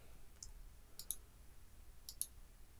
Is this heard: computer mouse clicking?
yes